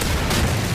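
A video game explosion in Modern Warfare 3's Resistance survival mode: a loud, dense boom with rumbling low end that fills the whole short moment.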